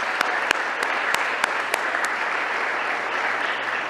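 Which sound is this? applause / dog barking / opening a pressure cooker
applause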